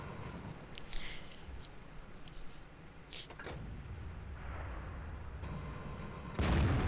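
Tank cannon fire in World of Tanks while playing a Tiger I as a sniper, muffled distant booms and rumbling over low engine drone, ending with a louder heavy blast.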